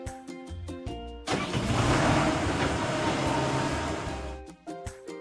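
A road roller's engine runs in a steady, loud, rumbling drone for a few seconds, framed by short bright musical notes before and after.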